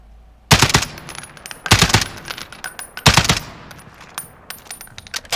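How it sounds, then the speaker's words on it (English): An FAL rifle fires three-round bursts in Call of Duty: Warzone, with three loud, sharp volleys of rapid cracks about a second apart, each followed by fading reverberation and small clinking sounds. "Haven't shot the FAL yet, so I just wanted to sort of calibrate myself for the 3-burst recoil."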